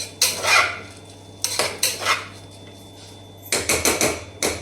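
Rice with turmeric is stirred in a pot, giving bursts of loud metallic scraping and clanks of a spoon against the vessel, separated by quieter gaps.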